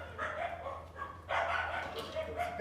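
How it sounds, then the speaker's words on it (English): Three dogs bark in short yips and barks at a distance, with a person's voice talking over them. "It's 3 dogs."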